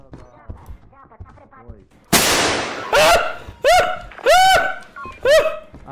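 A gunshot in a multiplayer video game: one sharp, loud blast cuts in after some quiet talk. Several short, high-pitched vocal cries follow it.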